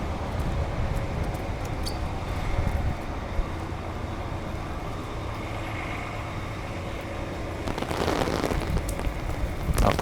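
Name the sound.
rain falling on a wet city street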